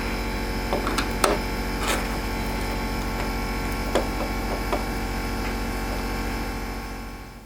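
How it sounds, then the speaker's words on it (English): Screws coming out of a MAME arcade cabinet control panel box: a few faint, scattered clicks and light scrapes over a steady room hum, with no talking. "And right now we're just going to go ahead and take these screws out."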